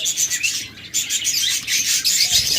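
Big-sized Japanese pet birds, sold as breeding pairs, chirp rapidly at a bird sale: a dense, continuous flurry of high, bright tweets from several birds close by, with no speech.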